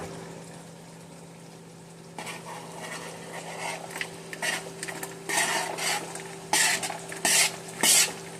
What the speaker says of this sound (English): Now, I'm just going to scrape these onions in here.